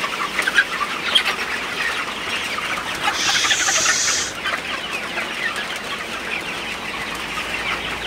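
A flock of Sonali hybrid chickens clucking inside a hen house on a rainy morning, with a fan running. Dense, overlapping clucks and a brief burst of wing flapping sound close by over a constant background hum, and nobody speaks.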